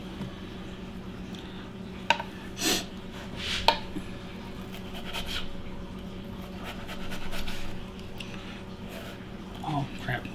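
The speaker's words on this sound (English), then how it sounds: "I'm going to chop this other one up the same way." A knife chops an onion on a board in a home kitchen: a few sharp, separate chops spaced seconds apart, close and fairly quiet, with softer scraping between them and some talk in the background.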